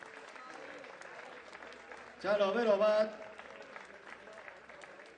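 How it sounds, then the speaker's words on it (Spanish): A crowd applauds at a cycling race prize ceremony, a steady patter of clapping in the background, with a voice briefly speaking loudly over it at mid-clip. "Fuerte el aplauso para este segundo clasificado."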